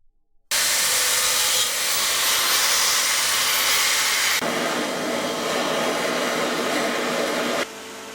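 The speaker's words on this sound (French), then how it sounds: "Ponçage sur la première soudure des quelques impuretés qu'on apercevait sur la vue en gros plan." Abrasive sanding on a welded aluminium alloy wheel rim, cleaning impurities off the first weld bead: a loud, steady broadband grinding hiss running continuously, shifting tone midway and dropping slightly near the end.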